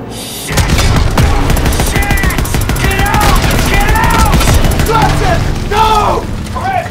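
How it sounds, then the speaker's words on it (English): Loud Call of Duty WWII tank battle: a shot bounces off a Panzer tank's thick front armor amid heavy booming gunfire and bursts, with shouting voices over the din. "Shot bounced off! Front plate's too thick!"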